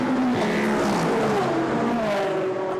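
GT race cars, including McLaren, Aston Martin, Ferrari and Mercedes, drone continuously at Monza during Blancpain Endurance Series practice, their pitch shifting as cars pass and rev, steady and fairly loud with no talking.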